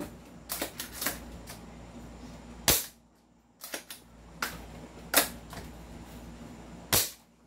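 Airsoft pistol, one of a 1911 or Glock 18 type, firing several sharp separate shots with pauses between them, loud and close, with faint handling noise in the background.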